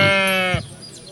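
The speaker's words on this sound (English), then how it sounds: "she tends to spam on the sheep and pig sounds" A sheep bleat sound effect from a Catan board-game ambience set plays as one sustained, wavering bleat lasting about half a second, followed by a short thump and quiet background.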